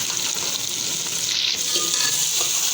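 Spices with roughly crushed coriander sizzle in hot oil in a pan for an egg biryani, a steady bright frying hiss with light stirring scrapes, close and continuous with no talk.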